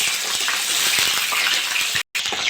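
Cabbage frying in hot mustard oil in a wok gives a steady, loud hissing sizzle with faint crackles throughout, broken by one brief gap of silence, and no one speaks.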